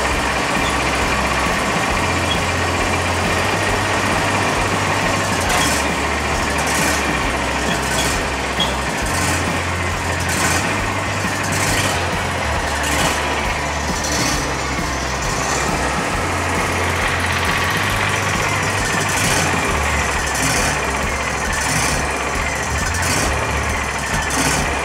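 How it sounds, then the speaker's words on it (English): A tractor engine running steadily while hauling a pine log at a sawmill, a continuous mid-distance drone with a faint periodic pulsing and scattered light clanks and knocks over it. "So Dad's on the tractor right now."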